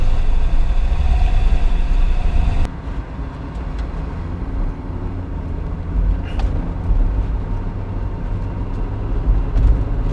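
Steady, full-bodied drone of a 1994 Acura NSX NA1 and its 3.0 V6 VTEC engine heard from the cabin while driving, with road and wind rumble, a brief dip partway through and no talking.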